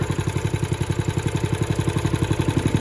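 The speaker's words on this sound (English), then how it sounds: "that's a sweet running little Honda motor" A small Honda engine runs steadily close by, its rapid, even low-pitched pulses chugging at a constant idle-like rhythm with a light mechanical clatter, and no voices over it.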